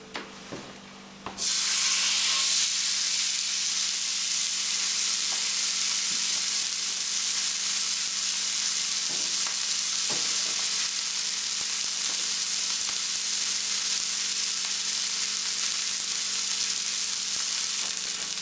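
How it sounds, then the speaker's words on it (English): A steak seared over high heat on a barbecue grill, a loud steady hiss that bursts on after a quiet second and holds, with a few faint clicks. "The steak is being sealed over high heat"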